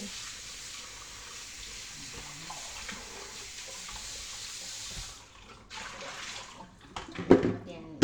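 Tap water runs steadily into a sink while chicken wings are rinsed, a constant soft splashing that breaks into louder clatter and splashes near the end; a voice talks quietly under it.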